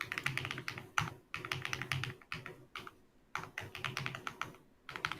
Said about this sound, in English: Sorry, I was too busy typing.